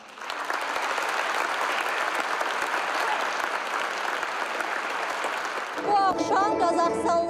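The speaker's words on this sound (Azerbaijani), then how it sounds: "Zaldan isə alqış sədaları kəsilmirdi." Concert hall audience breaks into sustained, dense applause for Azerbaijani dancers during culture days in Astana, a loud steady roar of clapping that gives way near the end to music.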